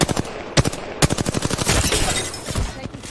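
Rapid automatic gunfire in the Paladins shooter game, loud close bursts of fast shots with brief pauses between volleys.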